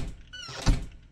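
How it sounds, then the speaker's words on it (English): A door closing in the horror video game Pacify, a short thud after a brief sliding creak, close and fairly loud. "Close the door."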